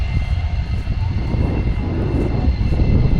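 Airplane engine drone at the EAA AirVenture airshow in Oshkosh, Wisconsin, a steady loud rumbling hum that holds for several seconds without pause, no talking.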